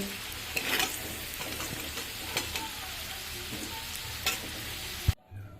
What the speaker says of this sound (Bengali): বাকি আলুটাও এই একইভাবে ভেজে নেব